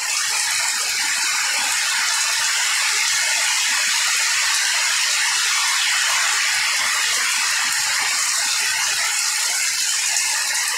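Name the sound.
heavy rain at night during monsoon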